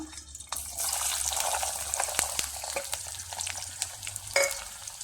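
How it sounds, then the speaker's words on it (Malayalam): Crushed garlic, about two hundred grams, frying in hot oil for a Kerala pickle, a close steady sizzle with a few scattered clicks and pops of a spoon stirring through it. "ഈ എണ്ണയിലേക്ക് നമുക്ക് ഇരുന്നൂറ് ഗ്രാം വെളുത്തുള്ളി തൊരിച്ചതിട്ട് കൊടുക്കാം"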